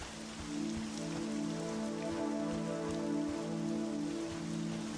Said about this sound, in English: Oh cool, rain.